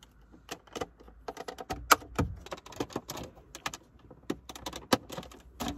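Plastic trim clips popping out of a Ford Focus ST dashboard, a run of sharp close clicks and snaps at irregular intervals, with light rustling of panels between them.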